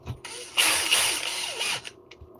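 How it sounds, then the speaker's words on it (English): A power driver runs bolts into the ESC mount of an Arrma RC car carbon chassis, giving a close, loud whirring ratchet burst of about a second, then slowing and stopping, with no talk. "I'm just shooting the rest of the bolts to the ESC mount."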